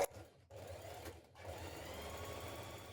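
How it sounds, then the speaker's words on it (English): A sewing machine stitches a jacket's underarm seam, whirring steadily and close with a rapid needle rhythm, briefly stopping twice before running on continuously. "we're going to sew our underarm seam together, and then edge finish or overlock your raw edges"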